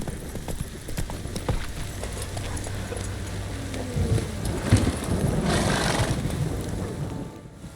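Horse hooves in the video game The Witcher 3: Wild Hunt clip-clop steadily at a walking pace over a soft ambient wash, with a brief low rumble midway and no speech.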